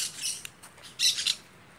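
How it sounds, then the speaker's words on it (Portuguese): A small bird gives a few faint, high chirps at sunrise, two short bursts heard at a distance over quiet outdoor background. "Olha o passarinho aí"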